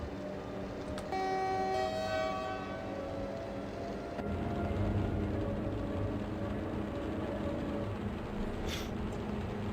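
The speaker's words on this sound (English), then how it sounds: "At least we can hear this train really well." A train runs in the Open Rails simulator, with a steady rumble throughout. A tonal horn sounds early for about a second and a half, then the engine noise swells and continues.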